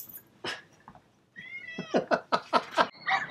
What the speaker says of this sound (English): Here's one of those cats coming now.